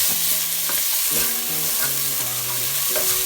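Garlic and onion fry steadily in a pan, a continuous close sizzle with stirring scrapes and light clinks on top, no voices.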